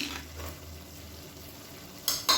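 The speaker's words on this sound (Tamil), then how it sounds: "இப்போ நல்லா அப்படியே பொரிய ஆரம்பிக்குது" Ginger garlic paste frying in hot oil for biryani, a soft, steady sizzle under faint stirring, ending in two brief louder scrapes of a spoon against the pan.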